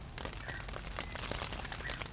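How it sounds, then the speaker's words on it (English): Steady rain pattering on the fabric of a budget one-person tent, a soft continuous patter of close drops with faint bird calls in the background. "Also still raining."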